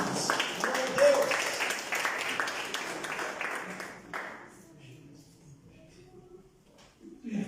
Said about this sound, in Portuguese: As palmas para Jesus, irmãos.